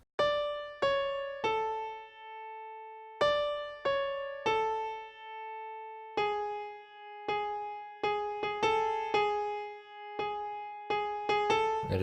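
Single piano notes of the melody from a song, played alone in sparse phrases: sustained tones that ring out and decay, with short pauses between groups of notes.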